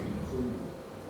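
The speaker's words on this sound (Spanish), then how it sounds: "Anda, coño, era un búho." A single soft, low owl hoot carries through an indoor setting, sounding faint and muffled against a steady background hum.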